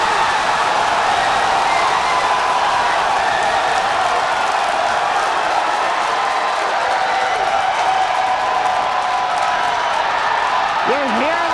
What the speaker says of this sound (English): You're hearing the cheering.